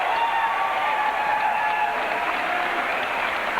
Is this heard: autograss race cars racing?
no